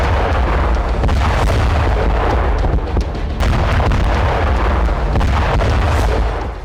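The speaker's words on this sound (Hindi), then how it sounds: "रूसी फौज ने फैब 500 बम से एक के बाद एक कई धमाके किए।" FAB-500 bombs detonate one after another in Krasnohorivka, heavy booming blasts rolling into each other as a loud, continuous rumble with deep low-end pressure and no voices.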